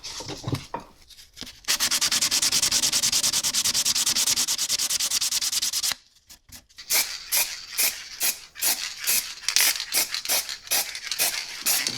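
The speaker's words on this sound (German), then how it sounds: "Jetzt werden wir das Ganze noch ein bisschen verschleifen" Sanding a BMW M50 intake manifold by hand: a steady, loud abrasive scrubbing runs for several seconds, then breaks into a brisk series of short back-and-forth rubbing strokes in a rapid rhythm, close to the microphone.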